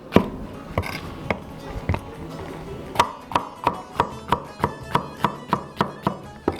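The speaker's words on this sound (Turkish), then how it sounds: "Biberleri de bu şekilde biraz iri doğrayacağız." A knife coarsely chops red peppers on a cutting board. A few scattered cuts come first, then a run of about a dozen sharp, evenly paced knocks, close and distinct, with no talk.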